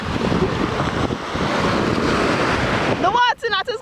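Ocean surf at a beach washes in as a broad, steady rush of breaking water with wind buffeting the microphone, loud and close for about three seconds before a brief burst of voices cuts in at the end.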